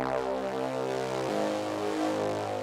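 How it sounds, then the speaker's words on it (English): A thick, buzzing layered synthesizer bass tone from the Xpand!2 plugin with a rough, detuned texture, holding a note and then sliding lower. "these two layers that I've processed together in this group that makes this cool"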